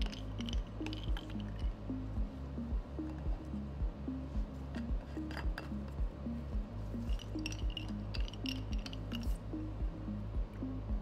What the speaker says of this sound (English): Cap all samples and mix thoroughly.